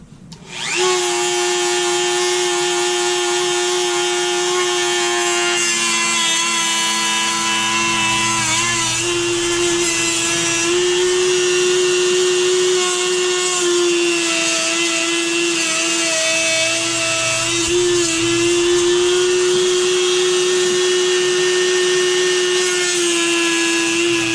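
A power tool whining steadily at high speed while making quick cuts in a plastic RC car body for an Axial 1.9 Wraith fastback modification, loud and close, running almost continuously with slight pitch changes as it bites.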